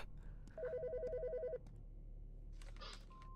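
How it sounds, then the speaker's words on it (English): A telephone rings in the video game Autopsy Simulator: one loud, rapidly warbling ring burst lasting about a second, followed by quieter rustling and a short voice. "The fucking phone."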